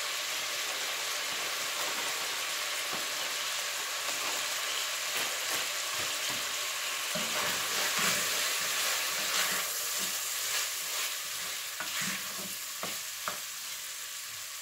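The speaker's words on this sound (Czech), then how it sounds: "teď tam přidám restovanou cibulku" Frying pork and fried onion sizzle steadily in a hot pan while being stirred, with scattered scraping clicks and pops over a continuous hiss, heard close with no talk.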